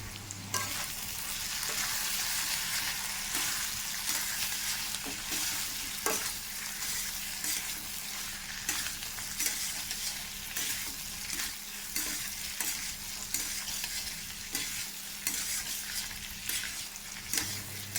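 Masala chickpeas sizzle steadily in a hot pan while a spoon stirs them in soft, repeated scrapes, close and continuous, with no voice.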